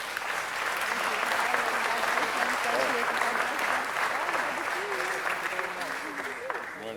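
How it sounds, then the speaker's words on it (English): A sustained round of applause fills a city council chamber, loud and even for several seconds, with scattered voices and chatter from the room mixed in beneath the clapping. "Let's give them a great round of applause as well."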